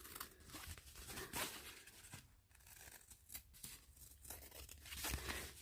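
Junk journal cover material, with a linen layer, is cut into a strip, giving close, faint crinkly snips and rustles in irregular bursts with no talking.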